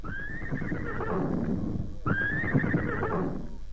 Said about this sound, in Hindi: ले चलो जल्दी चढ़ो घोड़ा में